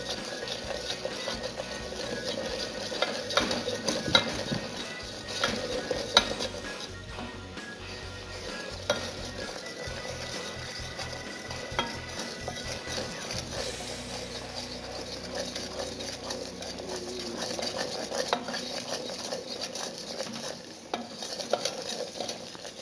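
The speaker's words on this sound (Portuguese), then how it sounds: "Aí você vai pacientemente quebrando todo o açúcar até virar uma calda decente." Sugar being stirred in a pan while it melts into caramel syrup for an eggless pudding: steady scraping and stirring with a soft sizzle and occasional clinks of the utensil against the pan, close and continuous, with no talking.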